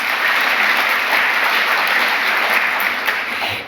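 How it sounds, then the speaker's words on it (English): A community awards audience claps steadily and loudly for a nominee honoured for free dental care work, a dense continuous wash of applause throughout that eases slightly at the end. "We can clap."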